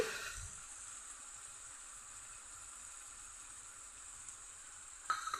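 Spice paste frying in a pan for a Bengali taro root dish, giving a steady, soft sizzle throughout, ending with a few faint stirring clinks, no voices.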